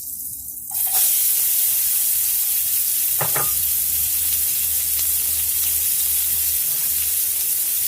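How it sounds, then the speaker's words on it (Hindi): Onions dropped into hot oil in a pan for hash browns, setting off a loud, steady sizzle that fills the whole clip, with a brief clatter of stirring partway through and no talking. "एक पैन में हमने थोड़ा सा जो वो ऑयल डाला है, इसमें हम डालेंगे ऑनियन"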